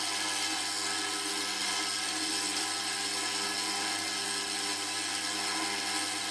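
An ultrasonic cleaner runs with a carburettor inside, giving a constant close buzzing hum with a high hiss and no change throughout, no voices.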